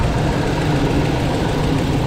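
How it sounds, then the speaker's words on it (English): A Chevy Tahoe 5.3 V8 idles with a steady low rumble, a faint fast ticking riding on top, heard up close and continuous with no talking. "I hear it back there ticking away."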